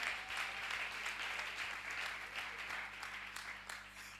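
A church congregation claps hands together in a steady, dense ripple of applause that carries evenly throughout, with faint voices mixed underneath.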